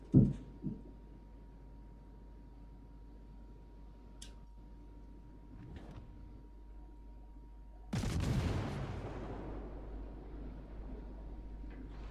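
Naval gunfire in World of Warships: two sharp thumps open the stretch, then a low steady hum runs under occasional faint cracks until one heavy, loud salvo booms and slowly rumbles away.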